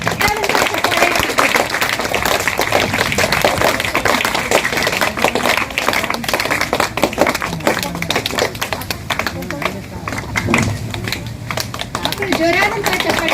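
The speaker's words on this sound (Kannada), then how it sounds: "ಜೋರಾದಂತಹ ಚಪ್ಪಾಳೆ" Loud applause from a school audience at a felicitation during a bag distribution event, dense rapid clapping that runs throughout alongside continuous talking and children's voices.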